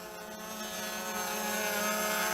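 An RC Logger NovaX 350 drone hovers in GPS hold nearby, giving a steady buzzing whine of spinning propellers that grows slightly louder and holds a constant pitch with no voices.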